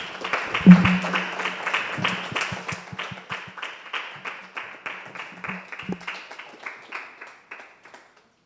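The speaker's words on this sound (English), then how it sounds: "let's give a brief and warm applause to Comrade Josephine" A lecture audience claps for the next speaker at a talk: a burst of many hands that starts strong, then thins into scattered, fading claps over about eight seconds.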